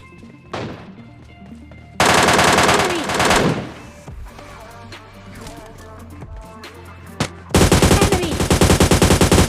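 M14 rifle fire in PUBG Mobile Lite, heard as a lone early shot, then a long loud rapid burst, scattered single shots, and a final sustained close volley.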